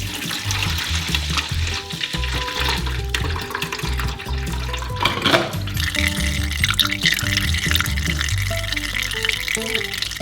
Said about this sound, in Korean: 채로 걸러 양동이에 부어주세요